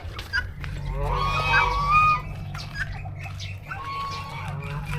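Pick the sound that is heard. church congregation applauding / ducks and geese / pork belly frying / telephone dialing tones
ducks and geese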